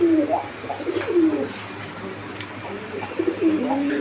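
Pigeons at a market stall coo in short repeated phrases, close and moderately loud over faint background noise.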